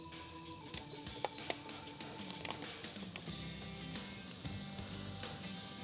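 Onions frying in butter with garlic in a pan for a classic French onion soup, a steady close sizzle and crackle with a few sharp utensil clinks and stirring scrapes.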